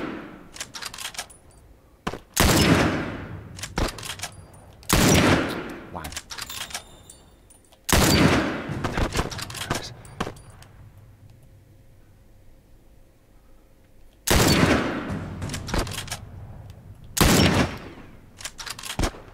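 Gunfire from the video game The Last of Us, several sharp loud shots in separate bursts spread across the clip, with a quieter game background between them.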